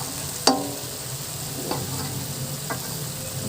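Tofu and bean sprouts sizzle in a pan with black soy sauce as a utensil stirs them, with steady frying hiss and three distinct scrapes, one sharp clink near the start, then two softer strokes.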